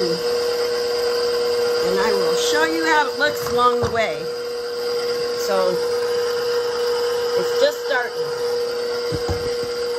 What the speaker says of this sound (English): that's my dough hook. Here we go. Get this on here. And I'm going to mix it